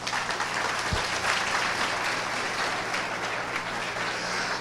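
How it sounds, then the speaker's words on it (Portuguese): A church congregation applauds during a Portuguese-language sermon, with dense, steady clapping from many hands filling the room without a break. "aplauda o Senhor Jesus"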